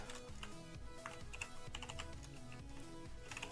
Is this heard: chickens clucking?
no